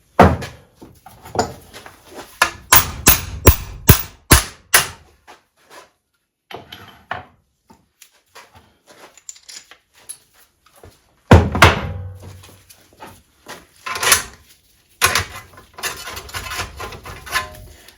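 Metal punch tool driving a hole through sheet metal during a mid-engine Scion xB pickup build, heard as a quick series of loud sharp thunks, then pauses and further heavy clanking workshop knocks.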